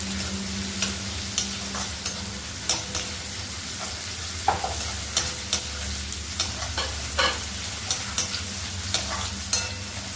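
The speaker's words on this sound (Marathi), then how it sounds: "आता आपण या भाज्या कांद्यासाठी आणि टोमॅटोमध्ये मिक्स करून घ्यायच्या" Mixed vegetables, marinated for half an hour for a veg biryani, are stirred into fried onions and tomatoes in a pan, with steady sizzling and regular scraping strokes of a spoon throughout, close up and with no talk.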